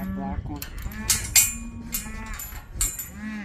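Cattle moo loudly and repeatedly at close range in a farm pen while cow-calf pairs are sorted for trucking and pasture, with overlapping calls and low bellows.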